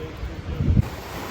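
Wind gusts over rough sea surf at Durrës, Albania, a steady roar with a louder surge of waves crashing nearby.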